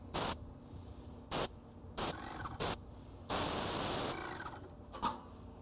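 Several sharp bursts of paint sprayer hiss while painting a house edge, short ones at first and then one longer sustained spray, separated by quieter pauses.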